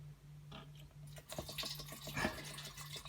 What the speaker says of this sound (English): It's hydrochloric acid solution. So I'm going to pour all of this in there